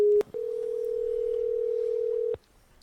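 A telephone tone sounds on the line, a brief tone cut by clicks and then a long steady tone held for about two seconds before it stops. It is loud and close, with no voices.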